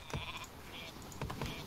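Sheep bleating in the Northgard strategy game, two short faint bleats over a soft background, with no talking.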